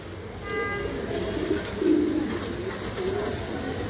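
Pigeons coo softly and repeatedly close by on a pigeon farm, low throaty calls over faint background clatter as feeding bowls are taken down.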